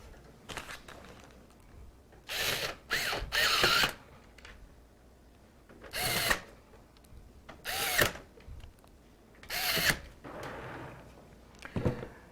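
Screws being driven in to mount a computer motherboard during a Skylake PC build: about seven short whirring bursts, close and moderately loud, separated by quiet handling pauses.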